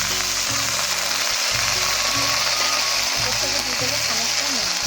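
Chopped kharkol leaves go into hot oil with garlic, dried chili and black cumin, making a steady, close sizzle, while a low, rhythmic mechanical hum pulses underneath.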